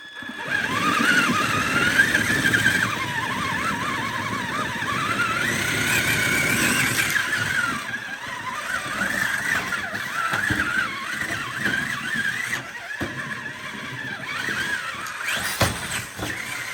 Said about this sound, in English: these treads, they just don't conform very well to rock, and you just see them spinning on top of the rock